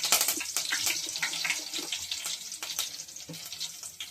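Curry leaves crackle and sizzle in about four spoons of hot cooking oil for a vada pulusu curry, giving a bright, steady spitting hiss with scattered sharp pops, close and fairly loud, with no voices.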